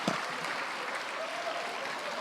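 Faint, steady applause from a group, soft and somewhat distant, continuing evenly throughout.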